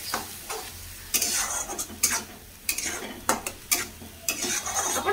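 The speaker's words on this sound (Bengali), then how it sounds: "টমাটো পিউরি আমি এবে দিয়ে দেবা তাকে টিকে আমি ভালো ভাবে কষি দেবা" Tomato puree masala for ghugni being stirred and fried in a pan, with a steady sizzle and repeated bright scraping strokes of a spoon, close and fairly loud, with no talking.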